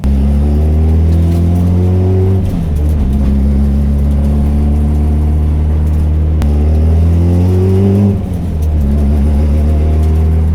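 An LS V8-swapped Honda Civic (EG, around 600 hp with VTEC) drives along, its deep engine droning loudly and steadily, with the pitch rising through each gear and dropping briefly at the shifts.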